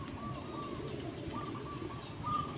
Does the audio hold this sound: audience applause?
no